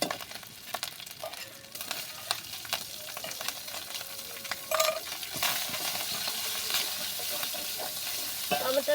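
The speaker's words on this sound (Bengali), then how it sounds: "টমেটোটা একটু ভেজে নেবো আমি।" Chopped tomatoes frying and sizzling in a pan with ginger paste, a steady crackle under occasional stirring and spoon scrapes, close and moderately loud.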